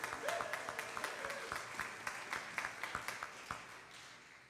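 A small audience claps for a kitchen crew in a fairly quiet room. The clapping is soft and scattered, with distinct individual claps standing out and fading toward the end.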